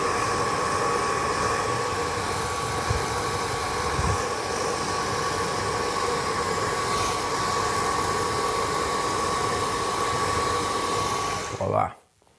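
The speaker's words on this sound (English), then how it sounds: "I'm gonna use a little bit of cold from the hair dryer." A hair dryer on its cold setting blows with a steady, loud whooshing hum for a long stretch, then clicks off abruptly near the end.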